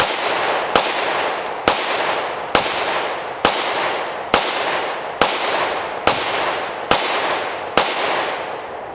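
Ten evenly spaced gunshots from a Live Free Armory Falcon 9XC pistol, a Glock-clone 9mm handgun, ring out at a steady pace of about one per second, each a loud sharp crack with a decaying echo, with no talking.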